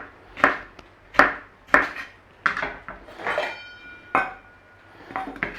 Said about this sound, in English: Nice diagonal cut on there.